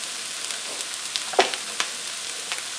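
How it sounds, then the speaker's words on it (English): Tomatoes sizzling in a hot pan for ratatouille, a steady close frying hiss with scattered small pops and crackles, no voices. "we're going to throw in some tomatoes."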